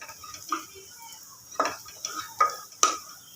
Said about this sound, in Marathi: कांदा आहे ना आपल्याला असं एकदम चॉकलेटी होईपर्यंत चांगला भाजून घ्यायचा आहे